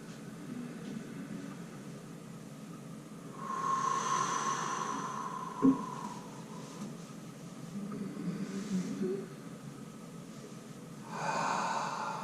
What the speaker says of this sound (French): je vais prendre quelques respirations globales